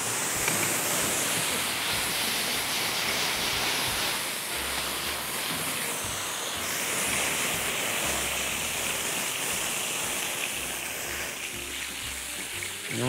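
Brandy flames over pears cooked in red wine, a steady, loud, breathy roar of burning that holds evenly for the whole stretch.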